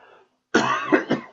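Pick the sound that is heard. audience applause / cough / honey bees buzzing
cough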